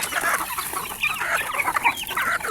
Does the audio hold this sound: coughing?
no